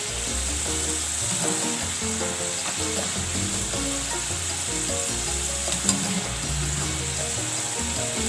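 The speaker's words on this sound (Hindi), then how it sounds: "इस तरीके से मैं तमाम फ्राइज़ को फ्राई कर लूँगी" Homemade potato french fries, McDonald's style, fry in hot oil with a dense, steady sizzle that holds at even loudness throughout, with one brief sharper crackle midway and no voices.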